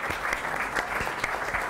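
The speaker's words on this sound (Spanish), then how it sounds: "Un aplauso para los expositores." An audience at a talk on sustainable digital transformation claps for the speakers in a short, steady burst of applause.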